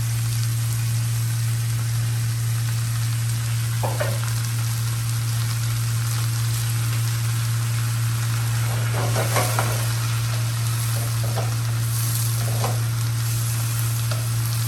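Wet sliced mushrooms fry in very hot olive oil, giving a dense, continuous sizzle with occasional crackles and utensil scrapes. A steady low electrical hum runs underneath throughout.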